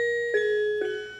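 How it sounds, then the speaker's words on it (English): A QShark electronic piano mat set to a xylophone voice plays a couple of short bright struck notes over a sustained tone, close and clear. "If you want to have your keyboard sound like this little"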